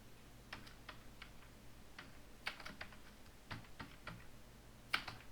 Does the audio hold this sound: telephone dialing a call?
no